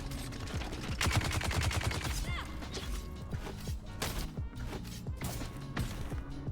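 A Gatling gun fires in a video game, a dense, continuous stream of rapid shots mixed with crashing impacts over a busy game soundscape.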